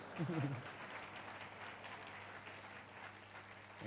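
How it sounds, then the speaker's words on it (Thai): Quiet applause from a church congregation during a Thai sermon, a soft continuous patter of clapping with a brief voice at the beginning. "ปรบมือได้ตอนนี้ถ้าจะปรบ"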